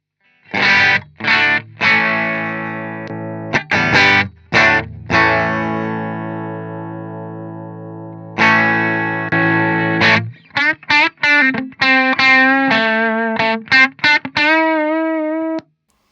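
Overdriven electric guitar through a G-Lab Rebel Series Chaos Overdrive pedal into a Marshall SV20 Plexi-style tube amp, playing sustained chords and choppy stabs, with gritty crunchy tone ringing out between short pauses. No talking.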